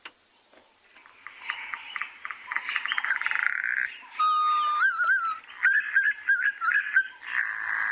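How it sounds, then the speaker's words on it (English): A green pigeon calls loudly up close, a run of clicking notes building into rising, warbling whistles that twist and repeat, with no other sounds. "The other really nice one, which I'll play for you now, is the green pigeon."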